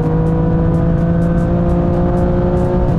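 BMW M2 CS inline-six engine pulling steadily under acceleration, a loud, continuous, even drone heard from close by with no voices.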